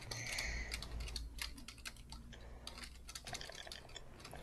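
Rapid keyboard typing, clattering keys pressed in quick bursts with short pauses, close and steady over a low background hum.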